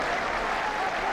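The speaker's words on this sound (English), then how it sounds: "And a respectful round of applause follows." A rugby crowd applauds at the close of a match between Gloucester and London Irish, a steady, dense wash of clapping holding at full level throughout the short stretch.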